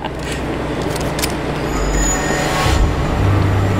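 Train wheels screech in a loud, close metallic squeal over a rumbling rail roar during a World War Z mission in New York City, growing heavier toward the end with no talking.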